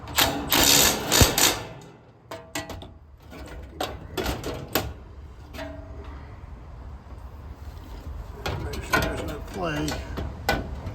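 A ratchet clicks as bolts are tightened during a cooling system repair, with bursts of rapid clicking, clanks of tools and metal, and a person speaking in between.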